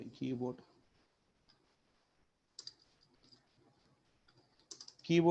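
Quiet, sparse clicks of a computer keyboard being typed on, a few isolated taps between short bursts of a nearby speaking voice.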